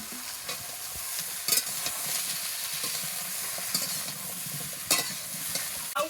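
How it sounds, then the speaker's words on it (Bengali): Bottle gourd pieces sizzle steadily in hot oil in a pan with green chillies, with a few sharp clicks and scrapes of stirring standing out over the continuous frying hiss. "এবার আমি লাউগুলো এই তেলের উপরে দিয়ে দেবো সঙ্গে দিয়ে দিয়েছি দুটো কেরা কাঁচা লঙ্কা"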